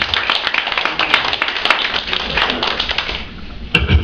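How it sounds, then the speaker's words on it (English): A comedy hypnosis show audience applauds steadily, dense clapping with some cheering mixed in, fading slightly near the end before a sharp burst. "Give them a round of applause."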